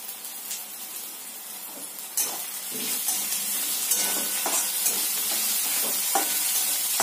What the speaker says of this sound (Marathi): कांद्याला पण आपण ब्राऊन रंग येईपर्यंत परतवून घेणार आहोत